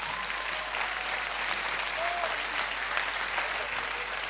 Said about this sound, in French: Je crois qu'on peut encore applaudir Clarisse.